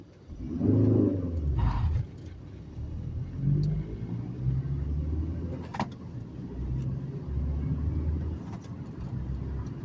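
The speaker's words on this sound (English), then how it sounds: "I'm going to show you why I don't like to take off from second gear." A manual-transmission car struggles to pull away from a stop in second gear, its engine lugging in a low labored rumble that rises and strains, heard from inside the cabin with a brief rattle.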